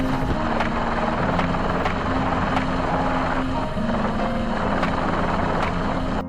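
A helicopter flies over heavily affected farmland, its rotor thudding steadily and loudly throughout with a broad engine roar, close and continuous with no talk.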